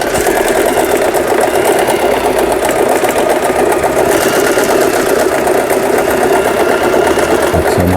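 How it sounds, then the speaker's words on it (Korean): An Elna 318 sewing machine with a plastic body sews an overlock pattern stitch, a loud, steady mechanical whirring and rattling that runs close up without a break and with no talking. "요게 오버록 패턴 바느질"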